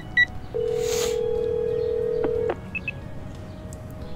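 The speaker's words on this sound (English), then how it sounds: "I punch in Nikki's phone number and wait for her to answer." A single steady telephone tone holds for about two seconds in Ace Academy, framed by a few short beeps of a phone number being dialed, clear and close with no talking.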